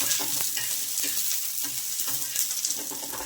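Garlic and coconut fry and sizzle in hot oil for a mutton masala, giving a dense, steady crackle up close with occasional stirring scrapes.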